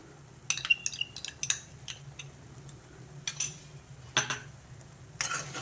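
A spoon scrapes and clinks against a pan while masala paste and tomato puree are stirred together with onions, giving a series of short, irregular metallic taps and scrapes at close range, with quieter gaps between bursts.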